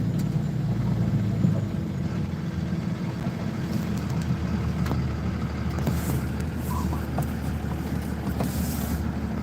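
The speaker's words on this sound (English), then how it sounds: "And there's a lot of cars over here now." Steady low engine rumble from many cars across a large open lot, a continuous broad drone with faint scattered knocks and no clear talk.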